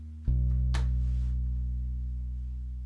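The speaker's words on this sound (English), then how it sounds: "It's just the Stinger bass here in Logic," Stinger synth bass patch in Logic holds a single low whole note that enters sharply and sustains steadily, with a faint brief higher sound near the start, no talking.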